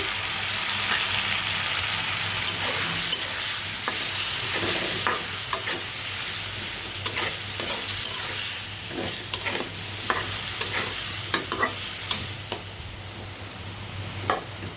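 Chopped tomatoes added to a spiced masala for shorputi fish, frying in oil and stirred: a loud, steady sizzle runs throughout, with repeated close scrapes and clinks of a spatula against the pan.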